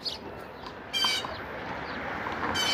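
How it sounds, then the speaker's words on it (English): Birds call from a tree in Brooklyn Narrows: two short, bright bursts of chirping and squawking, about two seconds apart, rise over a low, steady outdoor rumble. "You could hear the birds."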